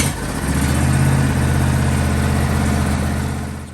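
John Deere E160 riding lawn mower engine idling after an oil change, a steady, fairly loud low hum that fades slightly at the end, with no talking.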